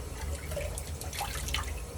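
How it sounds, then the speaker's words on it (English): Water from a tap dripping and trickling onto a puck of shaving soap, close by, with small irregular splashes and plinks over a low steady running-water hiss. "Put a little bit of water on and give ourselves another dose."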